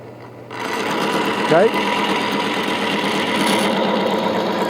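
A motor-driven bearing friction test machine runs with oil between two metal surfaces, giving a steady, loud mechanical whir with a brief chirp partway through; someone speaks once over it.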